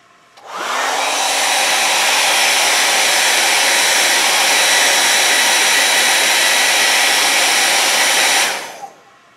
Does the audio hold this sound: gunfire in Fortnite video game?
no